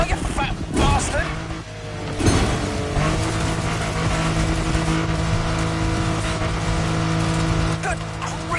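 A car in The Crew video game races at full speed down a slope, its engine roaring and revving loudly throughout, with tire noise and brief harsh bursts early on before a sustained high-pitched drone.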